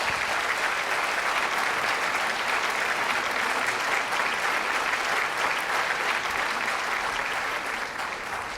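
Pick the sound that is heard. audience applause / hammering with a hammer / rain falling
audience applause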